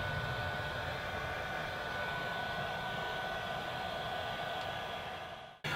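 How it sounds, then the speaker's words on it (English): A heat gun blowing over freshly poured epoxy to pop bubbles while making a router bit storage rack, a steady loud rushing hiss held nearly unbroken before cutting off abruptly at the end, no talk. "using the heat gun to get any bubbles out"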